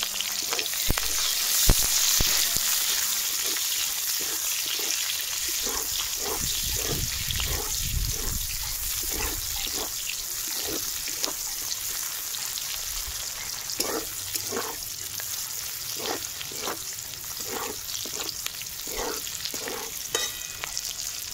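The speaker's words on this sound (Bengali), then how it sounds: "দেখুন পেঁয়াজ আর কাঁচা লঙ্কা হালকা ভেজে নিয়েছি" Chopped onion and green chili frying in a little leftover oil in a pan, a continuous close sizzle broken by regular rhythmic scraping strokes of a stirring spatula.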